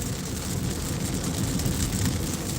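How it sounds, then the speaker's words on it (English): Steady rain falls heavily during a delivery driving shift in Greenfield, Indiana, a loud continuous hiss and patter filling the whole stretch without a break. "the rain's picked up too"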